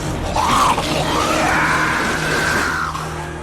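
Giant anaconda in the film Anaconda letting out drawn-out screeching, wailing cries over a rumbling, noisy film soundtrack, loud and continuous with no talking.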